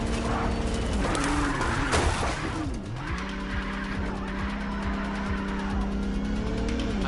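A car roars through a scripted chase in the MindsEye video game, its engine droning steadily with a brief skid and pitch sweep early on, layered over game music and effects.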